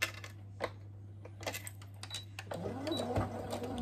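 Sewing machine stitching the edge seam of an inner pouch for a fabric project bag, with scattered clicks and taps first, then a rising motor whir as the stitching runs near and fairly quiet.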